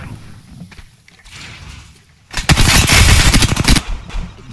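Automatic weapon fire in Apex Legends: a long, loud, close burst of rapid shots erupts after a couple of seconds of quieter game sounds, then cuts off.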